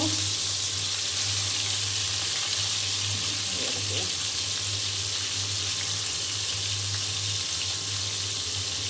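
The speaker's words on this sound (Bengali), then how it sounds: "খুব ভালো করে ভেজে নেব, যেহেতু মাছ আমি রান্না করবো" Fish and vegetables fry in a pan with a loud, steady hiss of hot oil, broken by a few stirring scrapes in the middle, close and with no voices.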